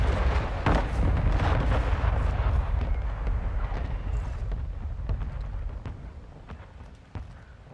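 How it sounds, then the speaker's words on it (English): Mortar strike explosions in Call of Duty MW2, a dense rumbling barrage of booms and blasts that gradually thins out into scattered distant impacts and gunfire. "Friendly mortar strike on the way."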